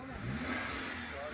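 A 2013 Suzuki Mehran's small petrol engine runs at a steady drone, close and continuous, with no clear revving.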